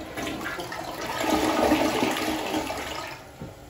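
A Glacier Bay toilet runs its low-volume flush, a loud rushing surge of water that swells through the middle and then fades as the bowl drains.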